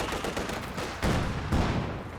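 Rapid bursts of PPSh submachine gun fire from Soviet conscripts in a Company of Heroes 2 battle, dense and continuous, with heavier volleys swelling around the midpoint and again near the end.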